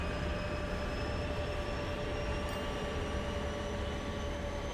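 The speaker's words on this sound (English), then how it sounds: "I love how many trains there are flying in and out of here." Trains run in the railway simulation game Transport Fever 2, a steady rumbling hum with faint whistling tones that holds evenly throughout, moderately loud with no talk.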